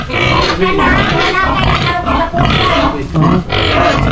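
Piglets grunting and snorting up close in a busy, continuous jumble of rough oinks, with some voices mixed in.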